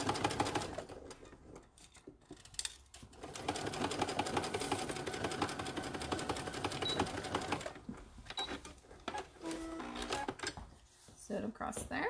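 A sewing machine stitches a zipper pouch in several bursts of rapid clattering, with short pauses and quieter stretches between runs, fairly close.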